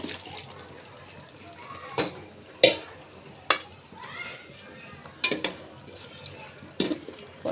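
Pointed gourd curry being stirred in a pot, with repeated spoon or utensil scrapes and clinks against the pot over a steady background hiss, close and moderately loud.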